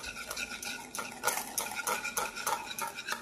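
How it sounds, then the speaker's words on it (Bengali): Ghee is whisked in a bowl for nankhatai biscuits, giving a fast, rhythmic series of light metallic clinks and scrapes, close and fairly quiet. "এবারে ঘিটাকে ভালোভাবে ফেটিয়ে নেব।"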